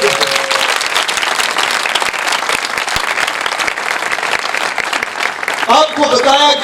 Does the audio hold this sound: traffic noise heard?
no